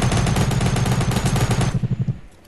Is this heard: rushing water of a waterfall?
no